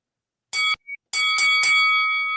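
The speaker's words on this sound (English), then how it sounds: "Can we have a bell, please?" A boxing ring bell rings as the host calls for it, first one short clang and a faint tap, then three quick bright strikes that ring on and decay with a sustained metallic tone.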